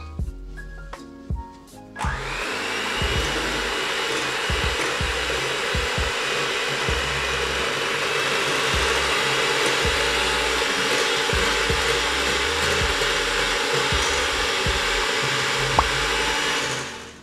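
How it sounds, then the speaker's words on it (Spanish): An electric mixer beating birthday cake batter, a loud steady motor whir running close and continuously after a brief clatter at the start, with faint rhythmic scraping against the bowl. "Y ahora sí, empezamos a batir."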